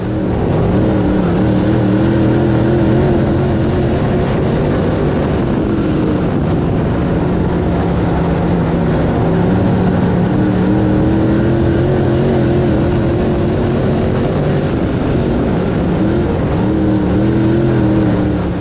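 Race cars at speed on an oval track at Swainsboro Raceway during a championship series race, with a loud continuous engine roar that swells and fades as the cars pass under a steady drone.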